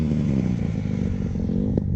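A Honda CRF150R dirt bike engine drones loudly and close while riding laps, a buzzy harmonic tone with slight rises and a brief clatter near the end.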